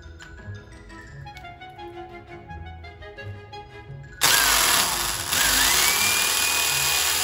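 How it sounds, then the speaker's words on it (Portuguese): A power drill fitted with a fresh bit bores into a household wall. After a quieter opening, the drill kicks in abruptly and runs as a loud, steady, close whine to the end, with no voices. "Aquela broca lá não deu, tem que tentar fazer com essa daqui."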